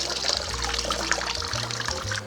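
Water drips and trickles off a jacket as it is lifted out of a dye bath, a steady close splashing and dribbling with no talk over it.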